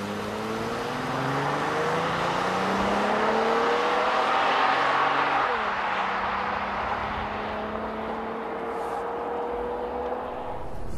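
A 2014 Honda Pilot AWD accelerates hard from a standstill toward 60 mph, its engine note climbing steadily through the gears, loud and close inside the cabin, with no talking.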